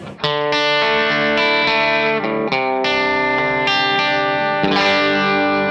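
Electric guitar chords played through a J Rockett compressor pedal, tightly squashed and even in level, with sustained ringing notes and sharp re-strums, loud and close.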